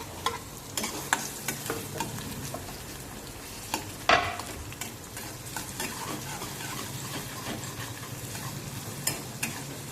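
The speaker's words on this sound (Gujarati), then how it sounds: "તેલ ગરમ થઈ ગયા બાદ તેમાં આપણે ઝીણી સમારેલી ડુંગળી," Finely chopped onion frying in hot oil for a Bombay-style aloo masala sandwich, a dense steady crackling sizzle with repeated stirring scrapes and one louder clatter midway, no talk.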